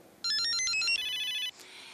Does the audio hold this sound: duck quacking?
no